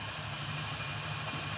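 A rare manual car's engine cranking, with a steady, dense mechanical drone that stays loud and unbroken throughout.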